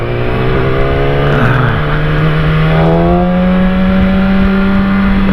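A car engine drones past on the road in a steady, loud, close hum with a slightly rising pitch and no voices, heard from beside a motorcyclist.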